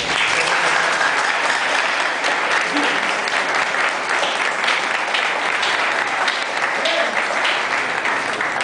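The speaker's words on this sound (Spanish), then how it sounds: "Vamos a dar un aplauso a los profesores." A crowd at a talk at an agricultural polytechnic in Mata de Palma applauds for the teachers, loud and sustained clapping with some cheering voices mixed in throughout.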